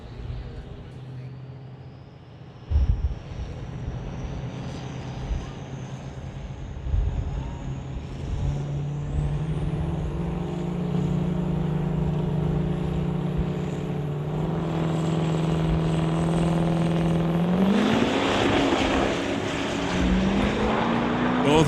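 Two NHRA Summit ET drag racing cars launch side by side, engines building into a loud, sustained rising roar that climbs steadily in pitch before a sharp surge near the end, with no talk over it.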